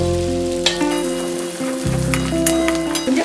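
Two sliced onions dropped into hot oil with whole spices, giving a steady, loud sizzle and crackle that runs unbroken, close and alone with no talk.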